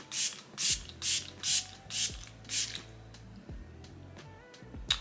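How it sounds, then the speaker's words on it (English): A setting spray misted onto the face in six quick, evenly spaced bursts close by, each a soft hiss, followed by quiet faint rubbing. "So I'm gonna go ahead and use my setting spray."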